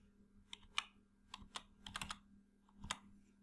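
Quiet typing on a computer keyboard, with a handful of light, irregular key clicks and a low background hum, close and alone.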